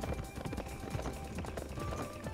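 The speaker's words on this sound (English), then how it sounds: "This horse I'm riding is the DLC horse." Horse galloping in Warriors Orochi 4, a rapid, continuous clip-clop of hooves under dense battlefield game sound.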